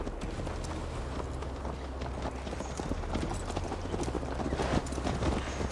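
A horse gallops in Assassin's Creed Valhalla on the long ride to Tamworth, with rapid, continuous hoofbeats pounding close and loud over a dense rumbling background, steady throughout with no speech.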